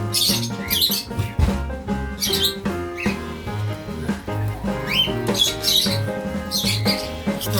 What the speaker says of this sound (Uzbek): Papugaylar ham bor mana.